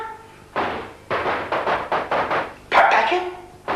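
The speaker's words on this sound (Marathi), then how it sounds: "फटाक्यांचा आवाज येतो" Firecrackers go off nearby in a Pune wada courtyard, a quick series of sharp, loud bangs and thuds, around eight bursts in under four seconds with uneven gaps, the last few louder and more crackling.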